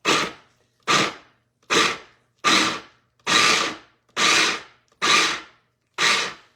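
A food processor runs in eight short pulses, each a loud whirring burst of roughly half a second, separated by brief silences at a steady rhythm while chicken pot pie ingredients are prepared.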